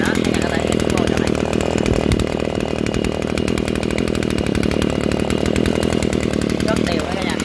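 A Japanese Maruyama 260 two-stroke brush cutter runs close by, its engine chattering in a loud, even, rapid crackle that holds steady throughout with no pauses.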